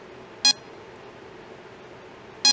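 A Mastercool refrigerant leak detector gives two short, bright electronic beeps about two seconds apart, close and clear over a quiet background.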